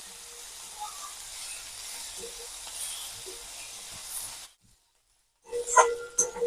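Onions frying in a pan for a fish curry, a soft steady sizzle and hiss that cuts out abruptly, then returns louder with sharper crackles and clatter.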